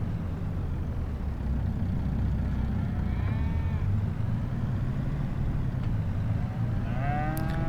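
Cattle mooing on a dairy farm in Farming Simulator 25, a few low drawn-out moos rising over a steady, dense rumble of farm ambience, with a brief higher call near the end.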